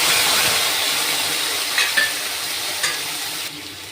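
Poppy seed paste goes into onions fried until browned for potol posto, a close hissing sizzle that fades gradually while a few soft stirring scrapes tick through it.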